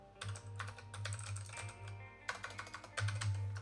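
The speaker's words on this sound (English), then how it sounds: "Come on, learn how to type." Rapid typing on a computer keyboard, quick clattering bursts of keystrokes with short pauses between them, close and clear over a steady low electrical hum.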